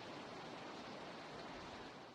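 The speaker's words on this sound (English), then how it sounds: "it's the sound of wind and leaves" Steady broadband rushing of wind through leaves in the video game Dead Seater, faint and unbroken like soft noise, with no other sounds over it.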